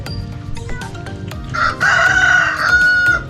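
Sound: rooster crowing

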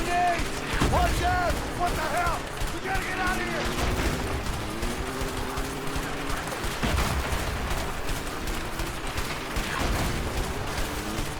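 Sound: gunfire in video game A Way Out

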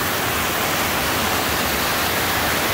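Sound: stream water cascading over a log

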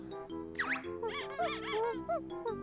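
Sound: squeaky sound effect in the Banjo-Tooie video game

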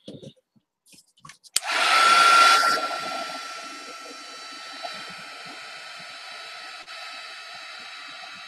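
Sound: hair dryer drying gesso on a watercolor art journal

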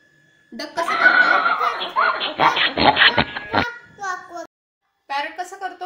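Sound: child imitating a duck quack

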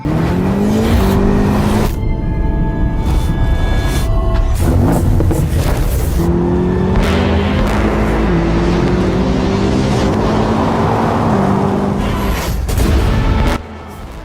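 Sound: BMW M8 Competition sports car engine

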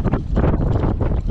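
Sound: wind while fishing on a boat

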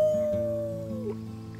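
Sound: characters howling like wolves in video game Life is Strange 2

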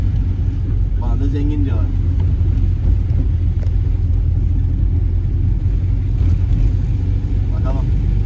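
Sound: 1990 Tofaş Şahin car engine rumble while driving

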